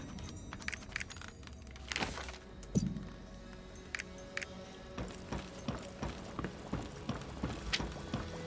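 Horse hooves clip-clop steadily in the video game Lost Ark, a run of even, close footfalls with faint clinks over a low game ambience and no talk.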